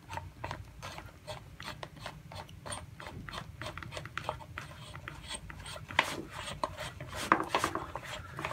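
An SCBA cylinder is seated in its back plate and the connection is threaded on by hand, giving soft close-up metallic clicks, scrapes and ratcheting rubs in an irregular series.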